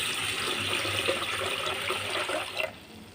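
Water runs and splashes over rice as it is washed for soaking, a steady pouring sound close by that drops off sharply near the end.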